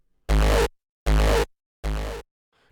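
Synthesized sound effect built in Serum from layered parts with a tail layer, three identical loud dense bursts with abrupt starts and stops separated by short silences.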